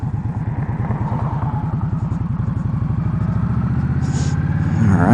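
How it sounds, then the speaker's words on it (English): A 2015 Indian Scout motorcycle engine rumbles steadily at close range while riding, with a rapid, even pulsing beat, swelling slightly louder near the end. "I love the sound of that engine."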